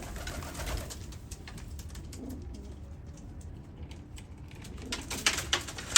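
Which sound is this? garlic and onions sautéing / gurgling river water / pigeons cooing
pigeons cooing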